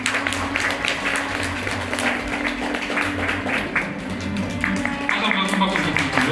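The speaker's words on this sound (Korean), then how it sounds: "큰 박수로 모시겠습니다" Guests at a wedding ceremony applaud as the bride's father comes forward, with moderate clapping over a continuous low hum of hall music and an officiant's voice.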